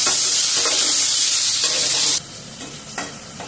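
Winter vegetables and potatoes frying in hot oil in a home kitchen, a loud steady sizzle with stirring scrapes that drops abruptly to a softer crackle partway through.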